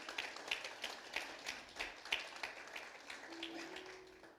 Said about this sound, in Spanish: Dele palmas al que vive.